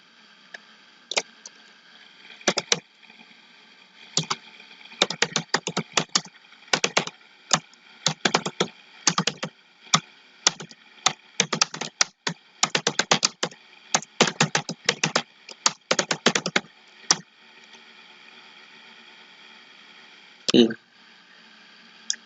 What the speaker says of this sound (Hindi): ये देखिए अगर मैं कुछ यहाँ पर टाइप करूंगा